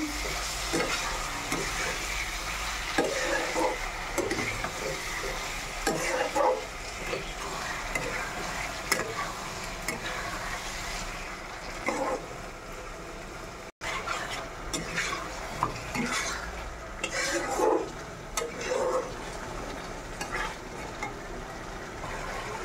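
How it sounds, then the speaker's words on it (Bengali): Fish pieces are stirred into fried spice paste in a pan for a Bengali fish curry, giving a steady close sizzle broken by scraping and clinking spoon strokes, with no talking. "এবারে আমি মাছটা দিয়ে দিচ্ছি, দিয়ে মশলার সঙ্গে মাছটাকে ভালো করে নাড়িয়ে নেব।"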